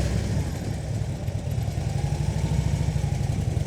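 A motorcycle engine running low and steady during slow-speed riding practice, a close, rumbling idle-like throb with rapid pulsing and no pauses.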